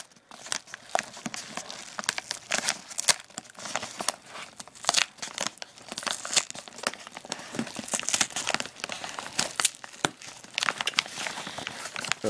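A plastic bubble mailer package holding a speedcube is torn open and handled, producing dense, continuous crinkling and ripping with rapid irregular bursts close by, and no voices.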